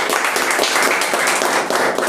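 A church congregation at a Sunday evening service clapping together, dense, loud, continuous applause from many hands filling the room.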